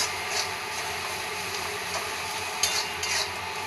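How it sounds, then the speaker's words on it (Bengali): Onions, green chillies and black pepper frying in a pan while being stirred, a soft steady sizzle with a few scraping strokes and light knocks, close and without talk. "সানরাইজ ব্ল্যাক পেপারটা দিয়ে এটাকে আমি ভালোভাবে নাড়াচাড়া করে নিচ্ছি।"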